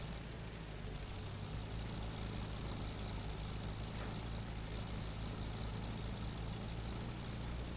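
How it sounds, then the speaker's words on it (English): A tractor engine in the video game Rust idles with a steady, even low rumble and hum that runs unbroken throughout, with no voices over it. "let's go. Come on, tractor."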